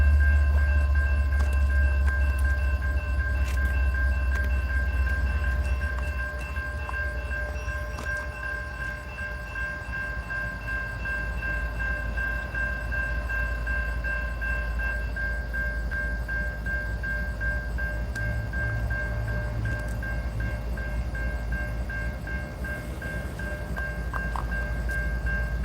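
A CSX freight train pulls up at the Dalton freight depot at night, a steady loud rumble with a sustained horn-like tone held throughout, no talk.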